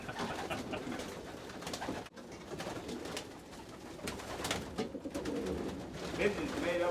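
Fantail pigeons coo in soft, repeated throaty phrases at close range, with other bird calls and some background noise mixed in, continuing throughout.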